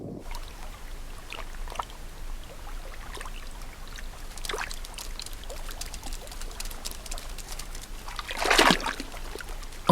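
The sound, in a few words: otters splashing in freezing water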